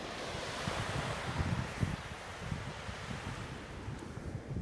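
Sea waves wash and surge steadily along a sunset promenade in the Al Jurf community near Abu Dhabi, with a broad, continuous roar of surf and some wind buffeting the microphone.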